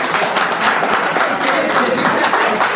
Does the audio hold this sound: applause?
yes